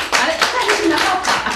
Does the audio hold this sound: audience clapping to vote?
yes